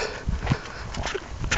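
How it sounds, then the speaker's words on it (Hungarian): Horses walk near a lighthouse by the sea, their hooves giving a few close, uneven clip-clops on hard ground. "ott is vannak lovak, megsimogatjuk őket"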